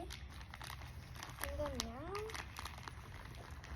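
Plastic bag of potting soil being torn open by hand, a soft crinkling rustle with a few crackles, close and fairly quiet, while a person talks over it.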